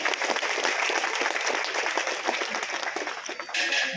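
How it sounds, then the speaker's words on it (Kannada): Loud, sustained audience applause at a public gathering in Bangalore, dense clapping filling the room steadily for the whole stretch. "ಒಂದ್ಸಲ ಜೋರಾದ ಚಪ್ಪಾಳೆ ಎರಡೂ ಕಡೆಯಿಂದ ಇಲ್ಲಿ ಬಂದಬೇಕು"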